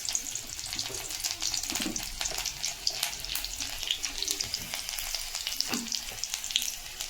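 Panch phoron seeds and garlic spluttering in hot oil, a steady close sizzle with sharp crackles and pops scattered throughout, no voices.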